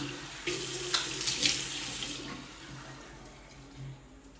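Water running from a tap into a sink while a face is being washed, a steady close splashing with a few louder splashes and brief bursts.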